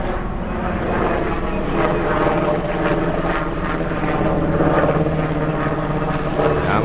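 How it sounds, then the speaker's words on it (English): A loud military helicopter drones overhead, its rotor thumping steadily beneath a constant engine roar that stays close and strong throughout. "a military helicopter"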